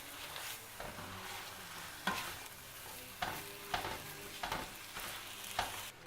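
Apples and brown sugar cook in a skillet for an apple skillet cake, a low steady sizzle broken by a series of sharp stirring scrapes at irregular intervals, close and moderately loud.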